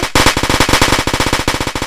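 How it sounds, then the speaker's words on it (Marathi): Firecrackers burst in the video game Diwali Simulator, a loud, rapid string of sharp cracks firing in quick succession like a chain of crackers, close and continuous for about two seconds. "येस, आपले बेसिक फटाके"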